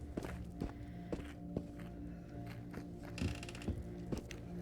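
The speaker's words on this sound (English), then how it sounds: "Have to cock the bolt again" A rifle bolt being cocked in the VR shooter Into the Radius: a series of sharp mechanical clicks and ratcheting clacks spread across a few seconds, moderately close over a steady low background hum.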